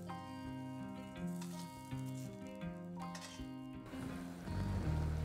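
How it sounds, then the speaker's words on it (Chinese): Vegetables fry in a pan while pho broth is being made, a soft steady sizzle sitting beneath louder melodic background music that swells toward the end. "啲菜蔬煎出味就得噶啦。"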